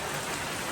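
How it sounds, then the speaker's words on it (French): Steady rain patters densely on a shelter along the Appalachian Trail, a loud, continuous hiss with no voices. "Dans l'abri, il pleut."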